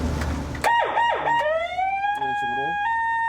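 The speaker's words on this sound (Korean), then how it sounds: "이 사이렌만으로도 충분히 이제 위협을 주면서 우리는 단속을 할 수 있죠." A coast guard high-speed patrol boat's siren wails close and loud, sweeping up and down in quick yelps before settling into a long rising tone, with a voice briefly audible at the start.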